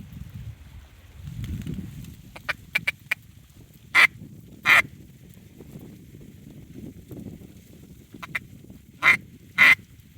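Ducks quack in short, separate bursts at a duck blind on open public water in Texas, with several single and paired calls spread over a steady low outdoor rumble.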